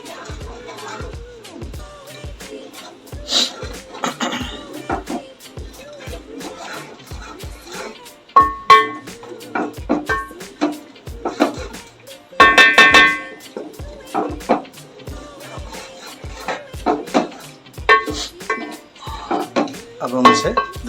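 Chickpeas and masala being stirred in a cooking pot for Lahori chikar chana, with intermittent clinks and scrapes of a spoon against metal, close and moderately loud, spread across the stretch.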